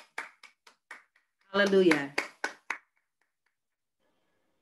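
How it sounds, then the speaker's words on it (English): Scattered hand claps of praise from a church congregation, a handful of sharp separate claps, then a voice calls out briefly, followed by a few more claps before silence. "Let's give the Lord a hand clap of praise."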